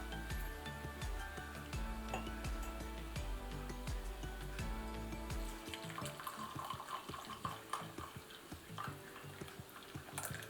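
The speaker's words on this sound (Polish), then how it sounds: "Teraz możemy ją przelać do kubka." Hot spiced winter tea poured from a pot into a mug, a steady liquid stream splashing near and fairly loud, changing tone as the mug fills, with a few light clinks.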